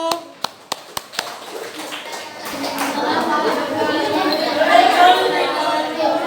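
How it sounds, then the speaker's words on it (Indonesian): Students in a junior high classroom applaud a presenting group, starting with a few sharp separate claps that swell into a sustained, loud round of clapping mixed with chatter. "Oke, tepuk tangan untuk kelompok 1."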